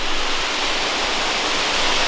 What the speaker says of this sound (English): It's another waterfall.